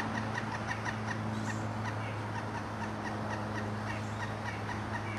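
A pileated woodpecker gives a rapid series of repeated, evenly spaced calls, faint and distant, over a steady low hum of background noise.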